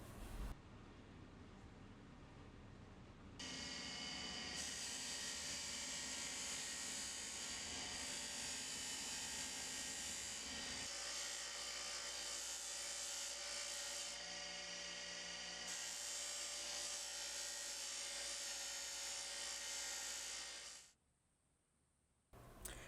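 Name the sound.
buffing wheel applying wax to bowie knife handle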